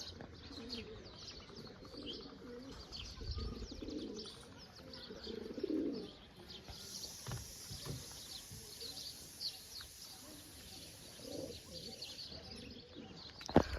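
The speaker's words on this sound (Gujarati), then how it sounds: "આપણા કબૂતર જોઈ લ્યો, હવે કંઈક મસ્ત મજાના કબૂતર છે" Pigeons coo softly and repeatedly at a village home, with occasional chirps from other birds in a quiet outdoor setting and a brief wing flutter or knock at the very end.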